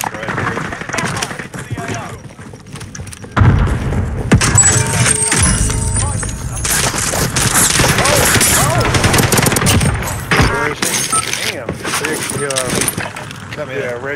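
Repeated sci-fi ray gun shots from a video game shooter in rapid bursts, loud and busy alongside other game effects, with players talking over them.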